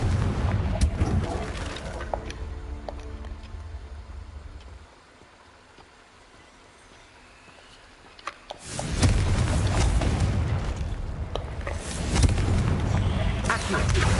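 A Confringo explosive spell from the Hogwarts Legacy video game bursts loudly, alone, with a dense blast and rumble that drop into near-silence before a second heavy burst of rumbling noise returns.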